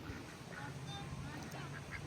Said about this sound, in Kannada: ಇಲ್ಲಿ ನೋಡಿ, ಇಲ್ಲಿ ಬಾತುಕೋಳಿ